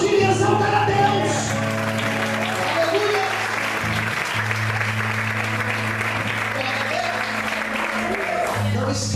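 Church congregation applauding in a dense, continuous wash of clapping, mixed with a sustained low musical drone and some voices underneath.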